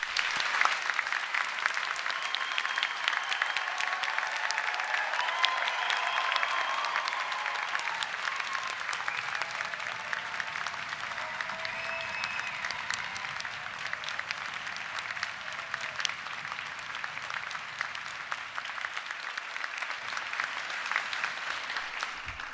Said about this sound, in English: Please, could I ask you all to join me in a round of applause?